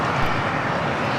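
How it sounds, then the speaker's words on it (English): Air Tahiti Nui jet taking off at Los Angeles International Airport, a steady broadband engine roar at moderate distance, with no voices. "Air Tahiti Nui, flights heading to Papeete, flight 7 now taking off on the north side."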